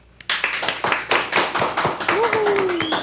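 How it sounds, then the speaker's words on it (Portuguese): A crowd claps steadily and loudly for a few seconds, with a voice and a brief whistle-like tone rising over the applause near the end. "Palmas."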